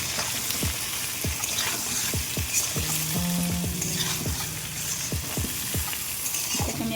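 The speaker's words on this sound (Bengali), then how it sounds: "আমি এখন নুন হলুদটা ভালো করে ভাজতে থাকি" Pointed gourd frying in hot oil with salt and turmeric, a steady close sizzle with repeated sharp scrapes and stirring knocks of a spatula in the pan throughout.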